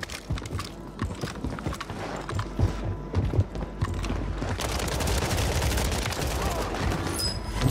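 Gunfire in the video game Warzone, with a string of sharp shots and mechanical clatter at first, then a steady heavy burst of firing that carries on to the end, close and loud.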